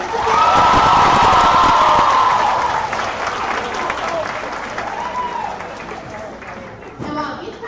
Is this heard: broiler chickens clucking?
no